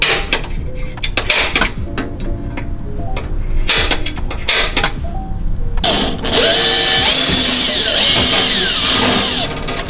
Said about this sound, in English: then we can start drilling, put a rivet on.